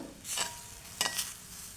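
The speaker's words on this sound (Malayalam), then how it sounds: "ഇനി ഇത് നമുക്ക് അതേപോലെ തന്നെ നന്നായിട്ട് ഫുൾ ഫ്ലെയിമിൽ തന്നെ വറുത്തെടുക്കാം" Dry rustling and scraping of spices roasting in a pan over full flame, with a couple of short bursts of stirring and faint sizzle, no voices.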